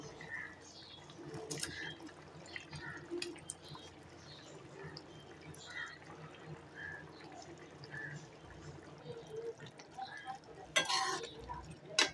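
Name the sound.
curry boiling in a pot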